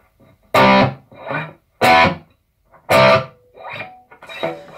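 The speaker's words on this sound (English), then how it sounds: "if you don't lift up your fingers high enough above the fretboard, you're gonna get this string scratching noise" Distorted electric guitar slides between power chords, with four sharp, loud chord bursts separated by quieter scratchy string noise from fingers dragging along the fretboard.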